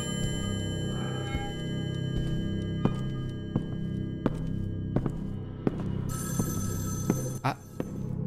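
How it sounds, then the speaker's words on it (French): A telephone rings in the video game Evil Inside, a repeated bell over a low ambient drone with scattered thumps and a few knocks. "Téléphone."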